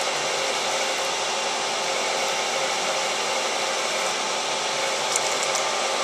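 A radial drill counterboring a hole in metal, a steady loud broadband whirring hum from the spindle and cutting, continuous and unbroken at close range.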